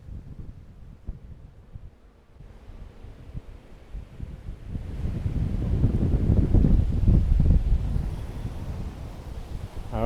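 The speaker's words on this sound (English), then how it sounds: "Quite windy up here too" Strong gusts buffet a mountaintop lookout near Mohonk Mountain House in New York, starting as light rustling and swelling into loud, roaring wind noise on the microphone that rises and falls.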